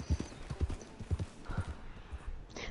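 Horse hooves clip-clopping on ground in Red Dead Redemption 2 online play, an uneven run of close, thudding hoofbeats lasting a couple of seconds, with a faint whinny-like tone near the end.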